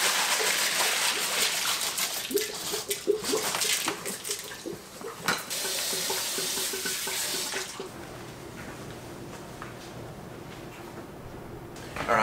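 Water runs steadily from a sink faucet as brined rabbits are rinsed beneath it, splashing and clattering against the basin, then settles into a softer, even flow for the last few seconds.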